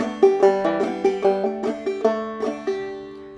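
Clawhammer banjo picks out measures of Georgia Railroad, a quick, bright run of plucked and brushed notes in a steady bouncing rhythm, close and clear with no talking.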